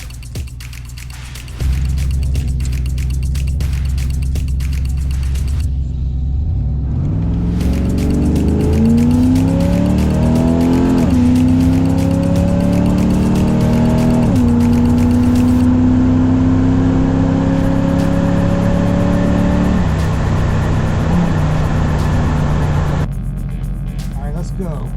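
A car makes a daily driver race test pass, its engine roaring loud and close, climbing in pitch through each gear before easing off, with voices under the noise.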